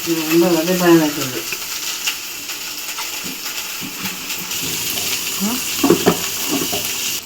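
Chicken curry cooks in a pan on a stove, a soft sizzle and stirring scrapes running beneath a person talking, with a few sharper clatters toward the end.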